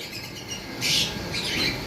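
Cockatiels and pineapple conures call inside a bird shop, giving two short, faint bursts of shrill chirps and squawks over a quiet background.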